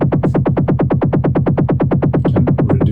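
A Korg Volca Kick drum machine fires a fast, even pattern of distorted kick hits with motion sequence active, about eight punchy thumps per second, each with a downward pitch sweep, loud and alone.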